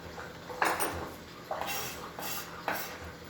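A kitchen knife scraped across a cutting board, three short gritty scrapes spaced about a second apart, faint and close.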